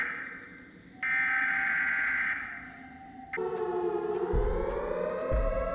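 Siren Head's siren wails in the horror game Siren Head Stranded, loud, droning tones that shift pitch in stages and then slide downward, joined near the end by low thuds.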